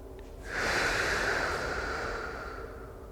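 Slow, deep breathing during a blood pressure breathing exercise: one long, fairly loud breath of airy rushing that swells after half a second and slowly fades over about two seconds.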